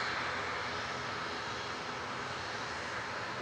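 A Ryanair airliner taking off at Manchester Airport fills the air with a steady, broad engine roar that holds constant throughout, with no voices.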